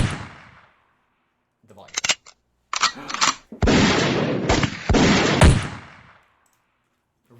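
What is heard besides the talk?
gunshot sound effects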